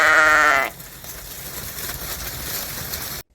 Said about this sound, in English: So we've just let the sheep out into the back farmyard